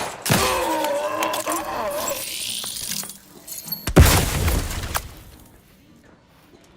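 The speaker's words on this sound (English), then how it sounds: "Explosion imminent!" A grenade explodes in the video game Outer Worlds 2: a sudden loud, heavy blast with a rumbling tail that fades over a couple of seconds, following a stretch of in-game voices and background sound.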